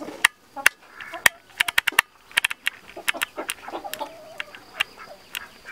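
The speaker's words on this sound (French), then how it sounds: "toutes les poules avec leur parc" Several hens, including a Cochin, cluck and squawk nearby in their pen in irregular bursts, with sharp clicking noises scattered throughout.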